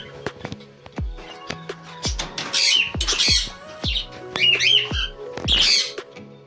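A pet cockatiel and other caged birds squawk in a room kept for birds at home, with sharp, loud, close calls repeating irregularly and sometimes overlapping, and no talking.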